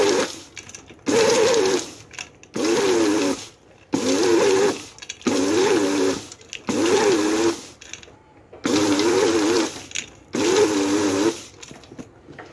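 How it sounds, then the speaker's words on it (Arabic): Electric food chopper whirring in repeated short bursts as it chops dates and nuts, roughly seven pulses about a second each with brief pauses between, loud and close, no talk. "نعاود ندوزهم واحد دوزه خفيفه في الهاشوار بحال اللي تتشوفوا معايا باش يتهرمشوا"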